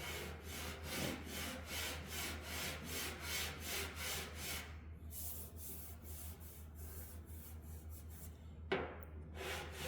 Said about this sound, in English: I'm just rubbing my fingers over this to see what's still high.